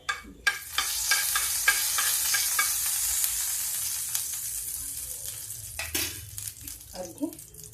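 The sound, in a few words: asafoetida sizzling in hot oil while cooking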